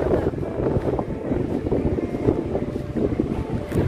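Steady cool wind rushing across an open seashore at Saint Martin's Island, Bangladesh, a continuous broadband blustery roar with gusts buffeting the microphone, no voices.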